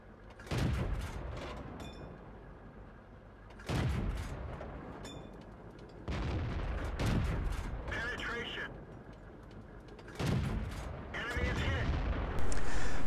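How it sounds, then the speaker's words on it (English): Tank guns fire in a World of Tanks battle on the Highway map, several loud booming shots spaced a few seconds apart over a constant engine rumble, with bursts of crackling impact noise. "I'm getting shot by 2 tanks."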